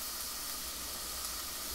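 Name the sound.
onions sizzling in a frying pan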